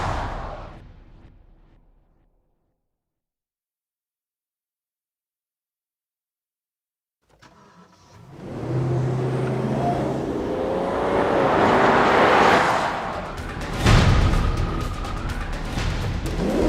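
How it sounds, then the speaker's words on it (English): A Rolls-Royce supercar-performance engine growls on a racetrack after a stretch of silence, building into a loud, rising roar as the car accelerates from close by. "a lovely growl from the engine"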